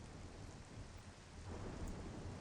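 Thunderstorm on the alien world Tallon IV in Metroid Prime Remastered: steady rain hiss with low, rolling thunder rumbles throughout, no voices.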